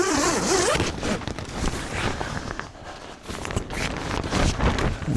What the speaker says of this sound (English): Zip the big door up.